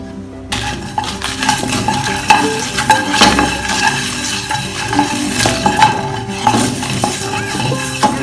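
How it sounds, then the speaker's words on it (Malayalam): Whole spices such as cumin seeds and black pepper, with turmeric, are stirred in a frying pan, the spatula scraping and clinking steadily against the metal over a soft sizzle. The sound is close and continuous, with no talking. "ഇത് നമുക്കൊന്ന് നല്ലോണം ഇളക്കിയെടുക്കാം."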